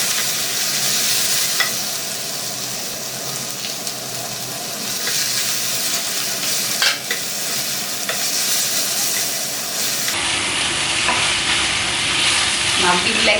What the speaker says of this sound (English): Now we let this mixture fry a little bit before we actually add the meat into this